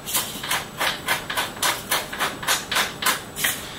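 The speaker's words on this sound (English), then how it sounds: "crack a good amount of fresh pepper into here" A hand pepper mill cracks fresh black pepper to a coarse grind, a close, rhythmic series of about nine gritty crunching twists with no talking.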